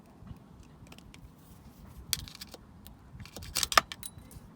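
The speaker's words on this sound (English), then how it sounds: "We're going to take our little circlip off there." Small circlip being removed from a Ford Fiesta ST gearbox, quiet metallic clicks and light clinks scattered across the clip, with a brief cluster of sharper ticks near the end.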